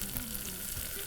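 Beetroot fries in a pan with ground coconut, fennel and green chilli, giving a steady close sizzle with a faint watery, bubbling edge through the whole short stretch.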